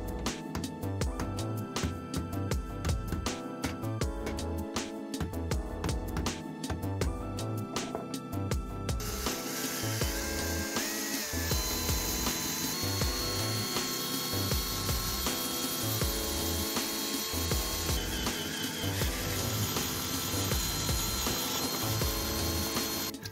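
A reflector plate for a 2.4 GHz WiFi helical antenna is drilled with 7 mm holes, giving a steady, dense mechanical whir that runs close and loud for the whole stretch without any talking.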